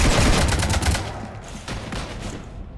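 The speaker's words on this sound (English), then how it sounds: "You want to stop shooting up my ship?" Dense, rapid gunfire in Mass Effect 3 pounds at a ship, a loud continuous fusillade of overlapping shots that eases slightly toward the end.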